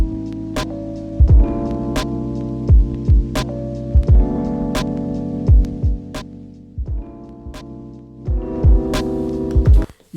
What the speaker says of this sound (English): Even with the drive down, all the way down, you hear that distortion.